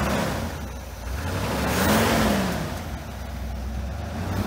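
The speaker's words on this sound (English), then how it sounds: "Give it a little gas, Logan." A car engine revs up with a throttle blip after a carburetor check, the carburetor leaking fuel; the mid-pitched rev rises and falls clearly at close range over a steady idle, with no talk.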